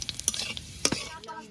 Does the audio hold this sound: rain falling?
no